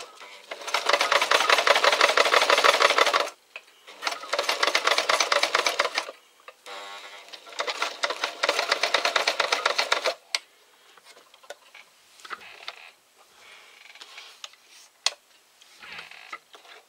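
A sewing machine stitching a fabric pouch, running in three rapid whirring bursts of needle strokes separated by pauses, then quieter clicks and handling noises as the material is adjusted.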